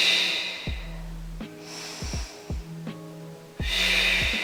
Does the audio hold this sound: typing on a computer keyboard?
no